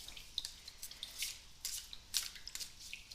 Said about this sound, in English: so let me keep shuffling here.